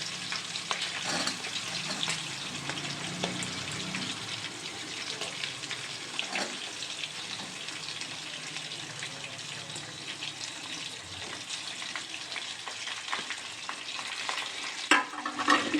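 Chopped green chilies and three medium-sized onions, cut medium, frying in a pan for badnekai palya: a steady crackling sizzle with stirring scrapes and occasional clinks, fairly quiet and close.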